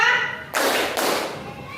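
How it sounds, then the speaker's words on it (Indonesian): Two sharp hand claps, spaced about half a second apart, ring out in a classroom as children follow a clapping instruction. Quiet room noise sits before and between the claps. "tepuk 2"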